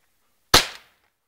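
A single sharp rifle or shotgun shot fired during a raccoon dog hunt with golden retrievers, sudden and loud with a short decaying tail, then quiet.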